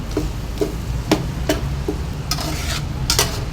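Ground pork browns in a pan with a continuous close sizzle, while a spoon stirs and taps against the metal in a loose, repeated rhythm of about eight clicks and scrapes.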